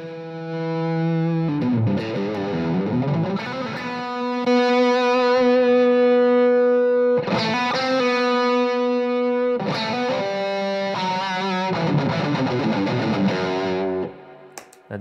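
Electric guitar played through a Golden Brownie distortion pedal, ringing out sustained, saturated chords and single notes in several phrases with short gaps between them. A voice briefly murmurs near the end.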